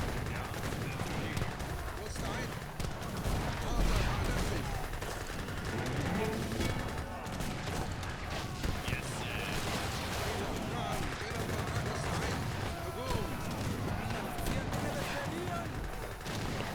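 Gatling Camel gunfire in the Age of Empires 3 strategy game, a dense stream of rapid shots within a busy battle mix, running steadily throughout under a speaking voice and game sounds.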